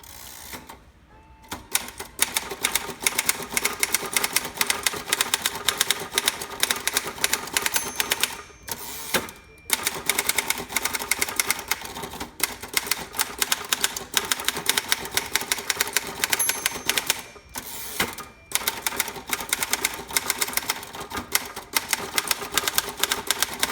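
Rapid clattering of a 1950 Royal KMG manual typewriter on the red ribbon setting, keys striking in dense bursts with brief pauses between lines, close and steady, with no voices.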